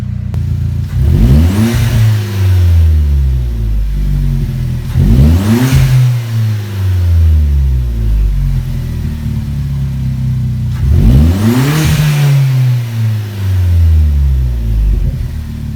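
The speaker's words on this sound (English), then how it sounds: "we'll give it a couple revs and we'll see how loud this thing is" A Chevy Sonic RS 1.4 turbo with its resonator deleted revs hard three times, each rev a loud, rising roar dropping back to a deep idle rumble, close up with no talking.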